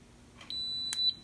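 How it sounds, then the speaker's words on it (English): A single clear, high-pitched electronic beep from a USB charger tester holds steady for about half a second over faint background hiss, with a brief click partway through. "Beep."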